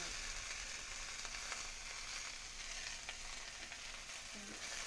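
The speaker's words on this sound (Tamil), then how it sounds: "கொஞ்சம் எண்ணெய் விட்டு வெங்காயம், பூண்டு, தக்காளி, அந்த எண்ணெய்க்குள்ளேயே புளியை போட்டு வணக்கிடலாம்." Onion, garlic, tomato and tamarind sauté in oil for a pirandai thuvaiyal, giving a soft, steady hiss of sizzling with faint stirring clicks and no voices.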